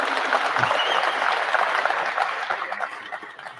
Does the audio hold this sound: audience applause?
yes